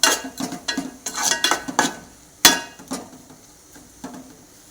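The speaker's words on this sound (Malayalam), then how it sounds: "അതിട്ടിട്ട് നന്നായി ഇളക്കി കൊടുക്കുക." A spoon stirs fish pickle in a pan, scraping and clinking against the metal in uneven bursts, with one sharp knock midway and quieter scrapes trailing off after it.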